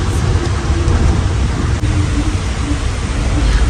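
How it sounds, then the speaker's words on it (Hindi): Steady rain hisses outside with a low, rumbling undertone, a constant wash of noise with no voices. "बाहर बारिश हो रही है।"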